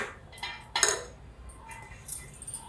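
A lid set on a bowl of batter in a kitchen gives a few short metallic clinks and clatters, close and light, scattered over a few seconds.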